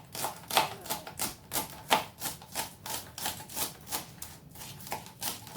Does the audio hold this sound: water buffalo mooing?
no